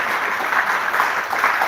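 Loud, continuous applause from a large conference audience at a company's annual kick-off, dense and even throughout the short span.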